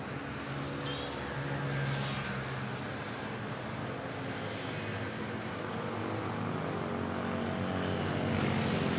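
A Philippine Airlines jet passes at Manila Airport, its broad, steady engine roar holding at constant loudness throughout with no voices present.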